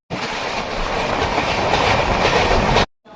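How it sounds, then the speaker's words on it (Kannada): The Narsapur local train rushes past close by for nearly three seconds, a loud dense roar of wheels and rattling cars that cuts off abruptly, leaving near silence. "Narsapur local train"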